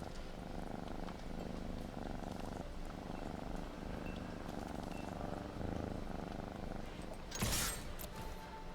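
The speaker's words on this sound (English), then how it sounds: "now that you've heard the purr" A cat purrs steadily and close up in a low, rumbling continuous rhythm for several seconds, with a brief brighter rustle or bump near the end and no talking.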